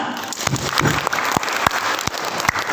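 Scattered clapping at a regional council hearing in a DPRD building, a few sharp separate claps standing out over a soft background hum, sparse and moderately loud.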